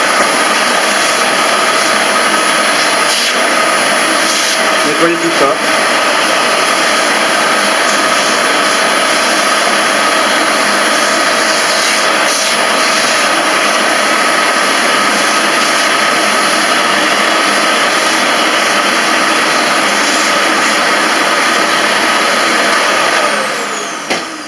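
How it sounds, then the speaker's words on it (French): A steady, loud vacuum cleaner drone runs without a break, sucking dust from a desktop computer fan, with a faint voice briefly heard beneath the whine. "vous mettez un coup d'aspirateur sur le ventilateur. Il faut aspirer toute la poussière qu'il y a dedans"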